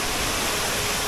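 Damai Waterfall in Malaysia pours during rain, giving a dense, constant rushing roar that sounds close and fills the whole moment without a break.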